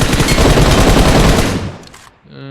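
Rapid automatic gunfire in a video game, a loud sustained burst of dense, rattling shots that fades out, followed by a brief electronic tone.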